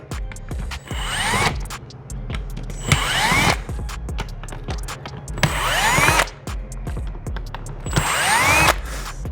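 A power tool backs screws out of the top injector rail on a 2023 BMW S 1000 RR motorcycle. Four close, loud bursts of whirring and rising whine are separated by short pauses, with small metallic clicks in between.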